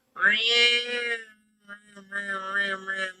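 A person imitates a cat with a long, drawn-out meow, then after a short pause a second wavering meow, close and fairly loud.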